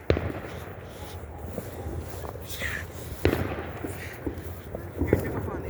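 Fireworks going off during a New Year firework show, a steady crackle and rumble of bursts with several sharper pops standing out, heard at moderate distance while people talk nearby.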